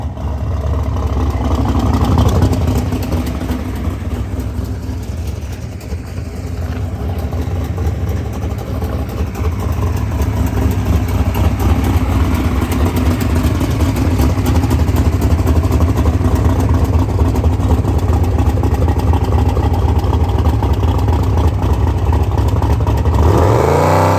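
A twin-turbo wrecker tow truck backs up under its own power, with a loud, continuous close engine drone rising and falling slightly and a swelling surge of revs at the very end.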